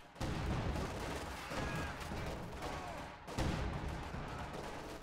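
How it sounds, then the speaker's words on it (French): Heavy artillery in Company of Heroes 2: a cannon fires amid continuous loud battle noise, dense booms and gunfire with a sharp blast near the start and another heavy burst about two-thirds through. "Donc là, le canon, il attaque"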